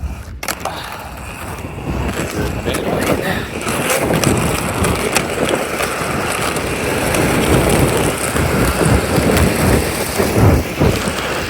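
Steady heavy rain hisses continuously with a rough, broadband rumble, loud and close, with no voices.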